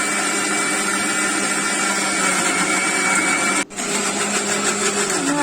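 A mixer grinder blending hibiscus leaves in a jar, a steady loud motor whine running continuously with a brief dip before resuming.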